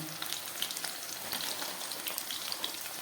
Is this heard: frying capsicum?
yes